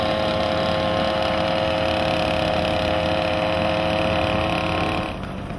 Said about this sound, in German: Mit der Rheinfähre setzten wir von Zons nach Urdenbach über.